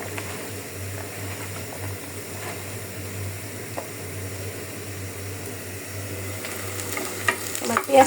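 Onions frying in hot oil for a beef curry, with a steady, even sizzle that continues throughout and grows slightly louder with a few clatters near the end.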